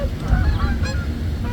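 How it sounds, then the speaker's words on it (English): Geese in a large migrating flock honk overhead, several overlapping nasal calls sounding in quick succession above a low wind-like rumble, moderately near and without any speech. "Geese are turning away from them."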